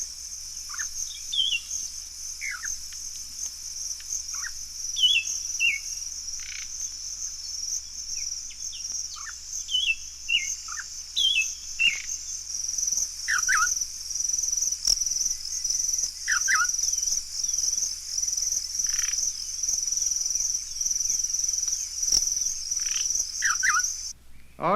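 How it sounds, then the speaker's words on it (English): An African warbler sings a run of varied chants and chortles, short repeated phrases spaced through the stretch, set against a constant high insect or cricket drone in a wild outdoor setting. "the warbler is still in fine form with his chants and chortles"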